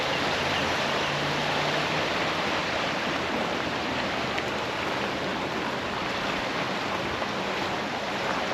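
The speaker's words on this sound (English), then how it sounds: "that water's running pretty good right now." Flood water surges down a creek after a hard April rainstorm, a loud, steady broadband rush that runs unbroken from start to finish with no voices over it.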